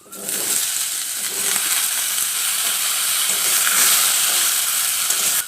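Drumstick pieces (sajne data) dropped into hot oil with fenugreek seeds, a loud continuous sizzle and hiss that swells after a brief start and holds steady, close up with no talk.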